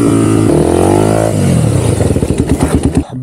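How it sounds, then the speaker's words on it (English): A 40-year-old motorcycle engine revs up loudly, then drops back into a choppy, pulsing idle. "Behold, a 40-year-old motorcycle."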